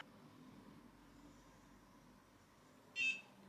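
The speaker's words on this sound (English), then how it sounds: "Okay, so it beeped." Short electronic beep from a handheld skin-tightening device near the end, a single brief chirp over quiet room tone.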